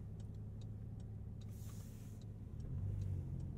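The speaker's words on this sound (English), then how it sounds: "Now for the turn signal sound" A Porsche 911 Sport Classic's turn signal ticks softly at a steady, quick rhythm, a faint clicking over the low hum and rumble of the car's cabin on the road.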